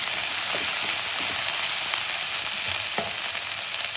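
Ingredients sautéing in hot oil in a pan, a loud steady sizzle and hiss throughout with a few soft stirring knocks, close up and without voices.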